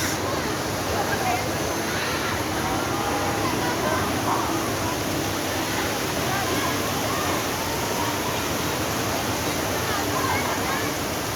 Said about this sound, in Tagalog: ang ganda po mga agos yung batis